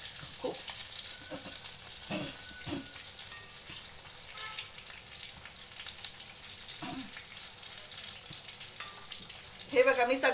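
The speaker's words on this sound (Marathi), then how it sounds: "तुम्ही बघू शकता किती छानपैकी आपले वडे असे खरपूस तळले गेलेत।" Potato vadas deep-frying in hot oil, a steady close sizzle and bubble that runs throughout, with a few clinks of a utensil and brief stirring near the end.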